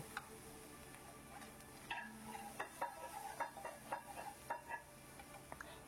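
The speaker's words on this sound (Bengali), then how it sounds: "দেখুন মশলাগুলো দিয়ে ভালো করে আমি একটু কষিয়ে নিচ্ছি।" Spices being stir-fried in a pan, heard as quiet sizzling with a run of light scraping and ticking stirs, strongest in the second half.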